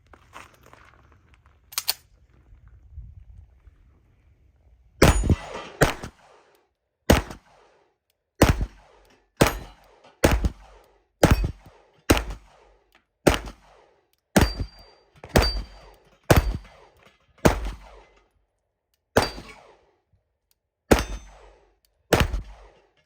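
Sixteen 9mm pistol shots ring out one after another at a shooting range, sharp loud cracks at a steady uneven pace with brief gaps between, one early shot before the string, no talk over them.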